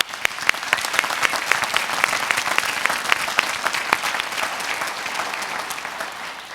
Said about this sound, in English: we just really must give Jim Levitt and the planning team another round of applause